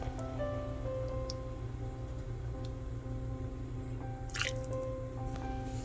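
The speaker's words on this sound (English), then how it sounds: "Now we're just going to go ahead and fill up our bowl with some dry lima beans." Dry lima beans and broth are ladled into a bowl with wet squishing and dripping splashes, soft and close, over a steady low background hum.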